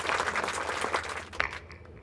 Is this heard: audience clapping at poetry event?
yes